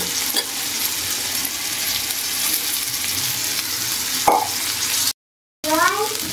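Cooked vegetables stirred into blue-coloured rice in a hot pan for a cauliflower pulao, with continuous sizzling, scraping spoon strokes and a brief dropout before more stirring.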